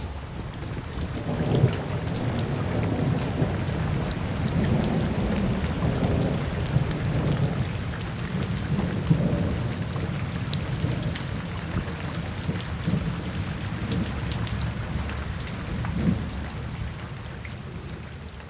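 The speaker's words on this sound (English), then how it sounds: "the rage and power of thunderstorms has always fascinated me" Spring thunderstorm in the early northeastern season: steady rain pattering on surfaces, with deep rolling thunder rumbling repeatedly underneath, continuous and fairly loud, no voices.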